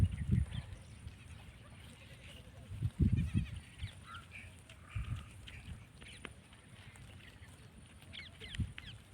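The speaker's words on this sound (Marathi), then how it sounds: "आणि इकडे शेळ्या चरत आहेत." Goats grazing in a field with kids running behind, giving a few short, faint bleats at intervals over low outdoor background noise.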